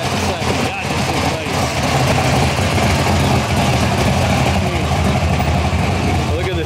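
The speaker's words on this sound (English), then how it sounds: "Look at this Charger now. With the new Hellcat engine." A Dodge Charger fitted with a Hellcat engine idles at a muscle car show, its deep, steady, loud rumble continuous and close throughout, with crowd noise around it.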